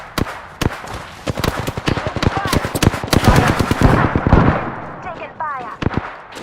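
Rapid automatic weapon bursts crackle loud and close in an Apex Legends match, dense fast shots giving way to scattered single reports, with brief game voice callouts mixed in.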